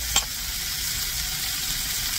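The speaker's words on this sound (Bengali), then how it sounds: "শাকটা ভাজা অলমোস্ট হয়ে গেছে" Leafy greens (saag) fry in a pan with a steady, even sizzle throughout, plus a brief utensil tap near the start; no one speaks.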